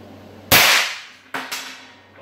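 Barrett .50 caliber rifle fired indoors in a house, with the muzzle over a glass table: one huge, sharp blast whose boom decays slowly through the room, then a second loud impact and a third bang shortly after, with no talking.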